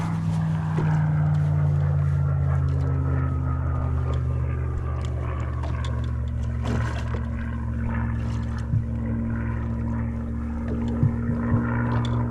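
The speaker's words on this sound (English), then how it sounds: "Currently being treated to a Spitfire display." A Spitfire flying a display overhead near Beachy Head, its steady propeller-engine drone sustained throughout, heard from a boat at sea over a continuous low engine hum, with no talk.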